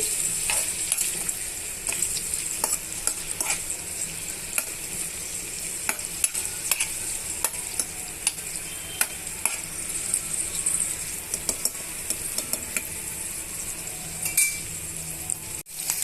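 Onions and green chillies fry in oil in a pan for chicken gravy, a steady bright sizzle running throughout, punctuated by repeated sharp scrapes and clinks of a spoon stirring against the pan.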